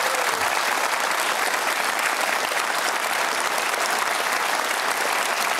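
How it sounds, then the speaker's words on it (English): A studio audience at a televised panel discussion applauds loudly and continuously, a steady wash of clapping with no lull. "now you can clap"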